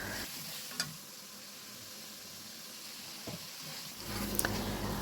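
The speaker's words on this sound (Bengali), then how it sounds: "মশলাটা প্রায় কষানো হয়ে এসছে, তেল ছাড়তে শুরু করেছে মশলা থেকে।" A spice paste sizzles softly in oil in a pan, a low steady crackle with a few clicks of stirring and a louder burst of frying toward the end.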